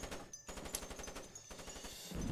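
A turret in Splinter Cell fires rapid automatic bursts, a dense rhythmic clatter of shots broken by brief gaps.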